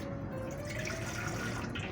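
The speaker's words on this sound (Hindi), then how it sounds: "अभी 1 गिलास पानी डाला है" A glass of water poured onto washed urad lentils in a pot for boiling: a steady splashing, trickling pour, close and moderately quiet, with no talk.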